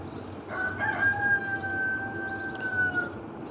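A chicken lets out a drawn-out, crow-like call lasting a couple of seconds, clear and fairly close over a low background murmur.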